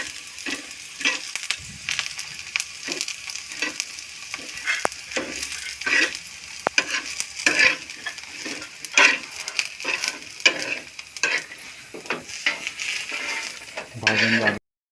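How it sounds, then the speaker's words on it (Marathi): Garam masala with cloves and black pepper dry-roasting in a pan for Kolhapuri-style mutton, giving a steady crackle and sizzle with repeated scraping and stirring strokes throughout. "हा एक गरम मसाला आहे, हा पण टाकायचा त्याच्यामध्ये. आपल्याला भाजून घ्यायचा आहे."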